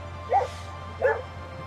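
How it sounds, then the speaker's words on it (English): A small dog barks twice, two short sharp yaps spaced apart and fairly close, over a steady low hum with no talk. "Looks like a rat, barks like a demon"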